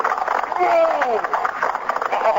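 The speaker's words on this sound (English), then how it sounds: "Where'd you get all the horses?" Radio-comedy sound effect of horses clip-clopping along a road, a steady run of hoof knocks under close, lively talk from the cast.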